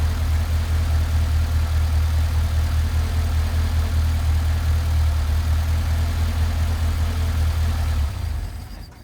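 A Mercedes-Benz 190SL with worn, leaking Solex carburetors idles fast and steady, a close, even low rumble that holds for about eight seconds before the engine is switched off and dies away.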